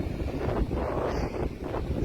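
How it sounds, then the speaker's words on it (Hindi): Strong wind blowing in Chicago beside water, a rough, gusty rumble buffeting the microphone continuously, loud and close with faint rustling over it. "शिकागो शहर में बड़ी तेज़ हवा है।"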